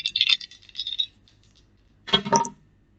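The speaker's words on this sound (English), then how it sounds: "Let's just throw the dice." Dice tossed and rattling onto a hard surface, a quick burst of clattering clicks, a pause, then a second louder tumble of knocks and clinks, close by with no talking.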